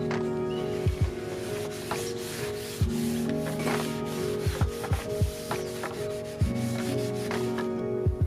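Cooking oil is rubbed by hand into a wooden board in a laundry room, a close, steady scrubbing friction with repeated rhythmic strokes and a few sharper scuffs.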